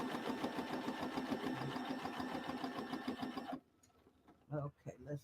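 A sewing machine stitches down a quilt block, running steadily and fairly loud for about three and a half seconds before stopping, then a few short bursts follow in quieter surroundings.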